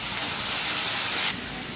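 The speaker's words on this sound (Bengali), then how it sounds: "এখন লাউটা ভালো করে কষাই নেব" Bottle gourd sizzling as it is sautéed in a pan with fried onion and tomato, a steady close hiss that drops abruptly to a quieter sizzle partway through.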